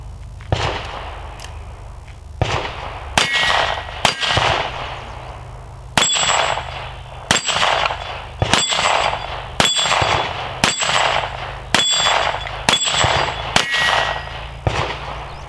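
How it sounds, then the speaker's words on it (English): Smith & Wesson Model 41 .22 pistol fired outdoors in about eleven sharp, ringing shots at a steady, unhurried pace, loud and close, with no talking. "Got the Smith & Wesson 41 here, and wasn't it not fun to shoot a little 22?"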